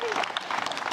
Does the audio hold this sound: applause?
yes